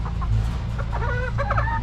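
Hens cluck and chatter close by over a steady low mechanical hum, with short warbling calls overlapping in quick bursts.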